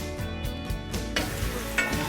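Garlic simmering and browning in olive oil sizzles steadily in a pan, with soft stirring scrapes and a couple of brief clinks on top.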